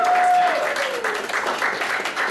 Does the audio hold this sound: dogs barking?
no